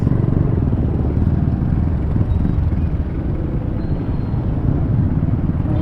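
Heavy street traffic near a school, a continuous dense roar of engines and rumbling vehicles, including motorcycles, filling the scene without pause and without talk.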